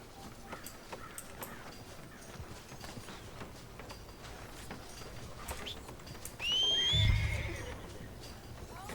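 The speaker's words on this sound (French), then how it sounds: "Et mon cheval." A horse whinnies once in the video game Red Dead Redemption 2, fairly close, over a steady background of soft ambient noise and faint tapping sounds.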